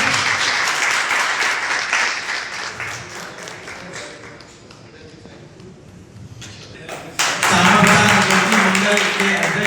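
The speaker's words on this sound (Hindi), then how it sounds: "जोरदार तालियों के साथ स्वागत करें" Loud crowd applause welcoming the chief guest at a public gathering in Hydepark, Sector 78, Noida, dense clapping that dips and thins midway, then surges back strongly near the end.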